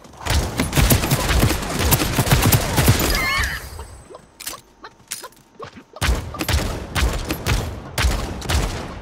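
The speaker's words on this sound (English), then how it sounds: "Fucking assault rifle." Rapid assault rifle bursts in the battle royale game Realm Royale, loud and dense, with a brief lull and more close-range volleys and thuds after it.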